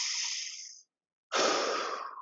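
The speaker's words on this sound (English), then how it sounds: "Get a big breath in here." Someone takes a deep breath during a yoga exercise. A close, airy breath out trails off, then after a short silence a strong, deep breath in follows.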